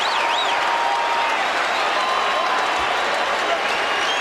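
Basketball arena crowd cheering and applauding as Kobe Bryant reaches 81 points, a dense sustained roar filling the whole moment, with a commentator's voice faintly mixed in.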